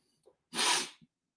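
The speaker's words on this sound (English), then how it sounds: "I hate those sneezes where it's coming and it doesn't come." A single close, sharp sneeze burst, preceded by a couple of faint breaths, then silence.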